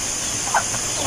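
Hens clucking briefly on a farm where chicks are also kept, a single soft cluck over a steady background hiss, with a voice speaking faintly nearby.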